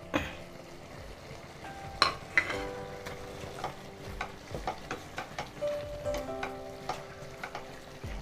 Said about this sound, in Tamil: எல்லாம் நல்லா கொதிக்குது